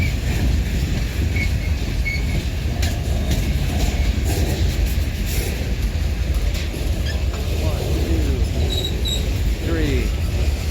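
A freight train hauling lumber cars rolls past in a steady loud rumble, with wheel clatter and squealing and screeching metal on metal toward the end. Faint insect chirps sit in the background.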